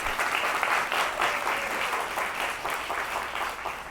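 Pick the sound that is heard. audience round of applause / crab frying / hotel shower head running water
audience round of applause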